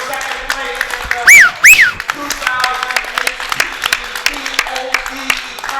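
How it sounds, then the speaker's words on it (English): A crowd at a one-pocket pool tournament final applauds the second-place finisher with steady clapping, while whistles and cheers rise above the claps near the start. "Please give a nice round of applause for Sacramento's own Mr. Amar Kang for secon"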